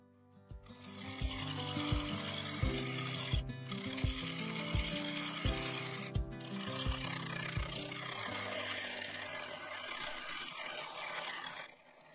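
A sequoia bowl spinning on a wood lathe while weight is cut from its side, a steady droning hum with rhythmic tonal pulses and rough scraping from the tool, continuous and close until it stops near the end.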